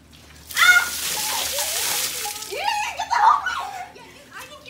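A loud splash of ice water is dumped all at once, followed by children shrieking, giggling and talking excitedly.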